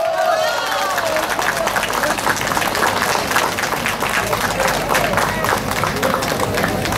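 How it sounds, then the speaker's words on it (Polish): Audience at a rural harvest festival (dożynki) in Ostaszewo bursts into loud, sustained clapping and applause that continues for several seconds, mixed with crowd murmur. "Brawa dla gospodarza dzisiejszych dożynek"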